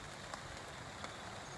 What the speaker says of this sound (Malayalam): ചെറുതായിട്ട് മഴ പെയ്തുകൊണ്ടിരിക്കുന്നു.